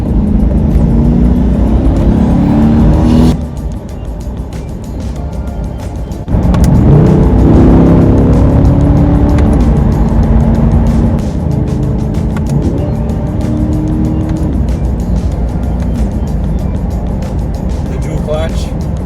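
A 2021 Chevrolet Corvette C8 Stingray with a mid-mounted V8 revs loudly and climbs in pitch during a downshift into second, heard from inside the car with a voice talking over the engine.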